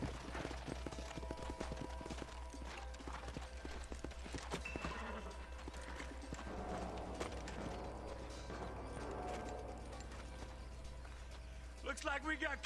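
Horses' hooves clip-clopping in the Red Dead Redemption video game, a rapid rhythmic clatter with occasional snorting under continuous game dialogue and background music at low level.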